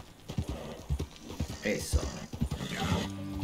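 Horse hooves clip-clop in Red Dead Redemption 2 as a tiring mount slows to a walk, with regular hoof thuds and mechanical tack clinks under someone speaking Spanish.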